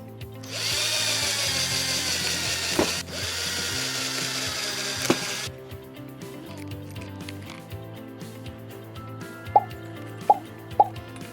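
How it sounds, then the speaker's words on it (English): A power drill whirs steadily through wood in two long bursts, the second ending abruptly, followed by a few sharp clicks and taps. "Then drill those holes."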